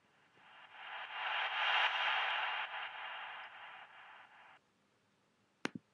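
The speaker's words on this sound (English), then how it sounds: "the next sound I have here is this echoey voice thing" A breath sample drenched in heavy reverb swells into a washy, echoey hiss for about four seconds and fades out, followed by a sharp click near the end.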